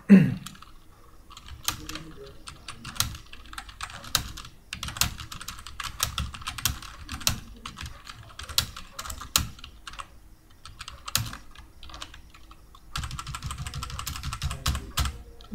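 Someone types sentences on a computer keyboard in Microsoft Word 2003, producing quiet, irregular clusters of key taps with short pauses and a brief faster burst near the end.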